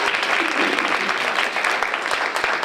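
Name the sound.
audience applause at conference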